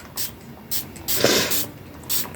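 Distress Oxide ink spray misted over a stencil in a craft session: several short hissing bursts, near and fairly loud, with one longer spray in the middle and no talking.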